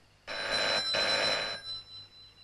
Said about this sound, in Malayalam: ഇത് ഫോൺ അടിക്കുന്ന ശബ്ദമാണ്